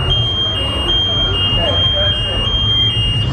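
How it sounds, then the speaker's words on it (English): A giant smoke detector at the State Fire Marshal exhibit of a state fair being tested, giving a steady, loud, high-pitched electronic alarm tone that sounds continuously throughout. "A giant smoke detector here."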